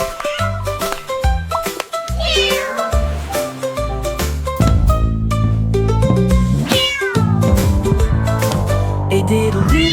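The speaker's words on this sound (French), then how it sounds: "Le chat miaula bruyamment puis attaqua une fois de plus." A cartoon cat meows, rising and falling in pitch, woven into loud, busy instrumental music of a festive children's nursery rhyme that plays throughout.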